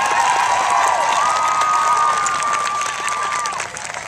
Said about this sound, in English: Now cheer him on.